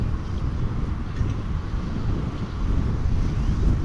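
Wind gusting across an open outdoor spot at DFW Airport in North Texas, a steady low rumbling buffet on the microphone that builds slightly toward the end, with no voices.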